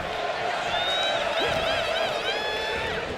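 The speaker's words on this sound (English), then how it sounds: "The crowd singing Seth Rollins' theme song" In the WWE 2K25 wrestling video game, an arena crowd sings Seth Rollins' theme song. The chant is loud and sustained and wavers in pitch over a constant roar of crowd noise.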